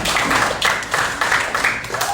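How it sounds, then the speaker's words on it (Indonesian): Schoolchildren in a classroom clapping for their classmates, a close, loud, uneven burst of many small hands that continues steadily for a couple of seconds. "Tepuk tangan dulu untuk teman-teman kita."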